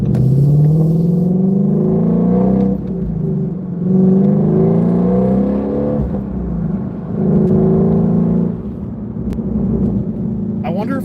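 Ford Shelby GT350 engine heard from inside the car while driving, rising and falling through rev cycles with gear shifts, a loud steady rumble across the whole stretch.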